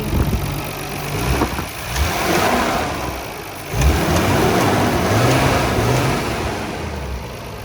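A stock-turbo Nissan R32 GTR engine idles steadily close by, with a broad continuous rumble that swells briefly twice as if lightly blipped, and there is no talk over it.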